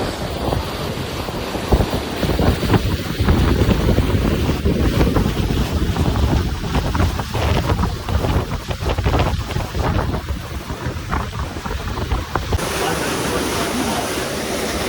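Strong wind roaring across the microphone aboard a Circle Line tour boat cruising around Manhattan, New York, with big waves washing and slapping steadily underneath; the noise is loud and continuous throughout.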